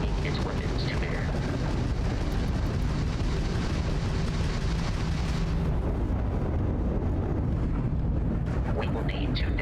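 Starfield ship combat as a Crimson Fleet ship opens fire: a dense, loud, continuous barrage of booming, crackling weapon blasts and explosions that rumbles throughout, easing slightly in the final seconds.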